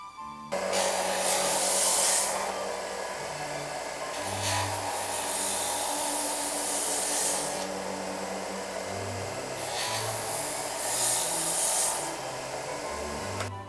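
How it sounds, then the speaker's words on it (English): Disc sander working a wooden Fanorona game board, a steady whirring motor with hissing abrasive passes that swell and fade as the wood is pressed on, close and loud throughout. "that disc sander really worked a treat"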